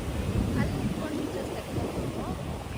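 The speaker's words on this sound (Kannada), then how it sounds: "ತುಂಬಾ ಅಲೆಗಳಿದೆ." Ocean waves at a Sri Lankan beach roll in as a steady, close wash of surf, with wind buffeting the microphone throughout and a faint murmur of voices beneath.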